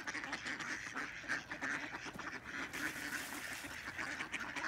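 A flock of ducks quacks continuously and overlapping at a stream, fairly faint and slightly distant, with no voices.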